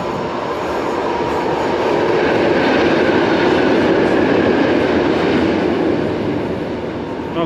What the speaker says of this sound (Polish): O, będzie jechał pociąg.